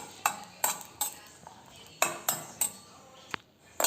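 A metal spoon clinks and scrapes against a kadai as green chillies fry in half a spoon of oil, with a few sharp, close taps spaced irregularly and only a faint sizzle underneath.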